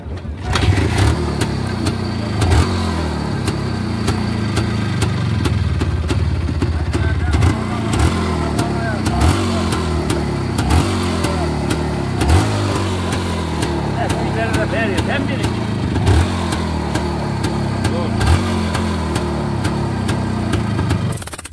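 A motorcycle engine runs steadily throughout with a throbbing, loud rumble, with voices talking faintly underneath.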